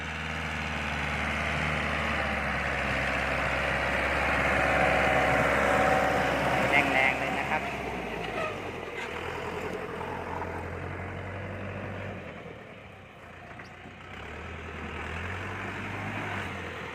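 A 2019 Lovol TB60 tractor's four-cylinder diesel engine idles steadily with a low, throbbing rumble, its pitch dipping briefly before settling back to a constant chug.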